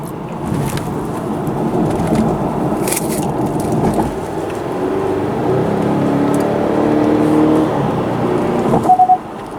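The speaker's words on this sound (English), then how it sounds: "I'm gonna go accelerate again and see if we get that boost." A Genesis G70 2.0T with a turbocharger fault and electric wastegate problem accelerates, its engine note rising steadily in a sustained, fairly loud drone from inside the car, with a brief chirp near the end.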